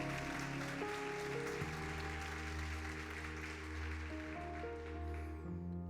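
A church congregation claps steadily for several seconds during a worship service while sustained keyboard chords ring underneath.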